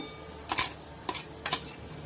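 Coarsely ground peanut chutney sautéed in a pan, three short scraping stirs of a spoon over a quiet background sizzle, close and without talk.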